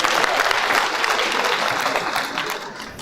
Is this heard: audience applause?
yes